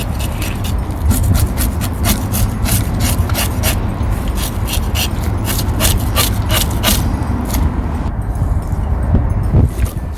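A knife scrapes scales off a Scottish salmon in quick, rasping strokes, a close and loud run of repeated scrapes that keeps a steady rhythm.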